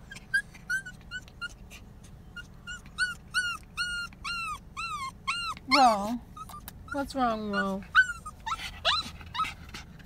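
A dog in a moving car whimpers and whines in a series of high, rising and falling cries, close and fairly loud over low road rumble, while a person speaks to it.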